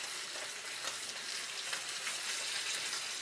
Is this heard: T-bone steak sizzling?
yes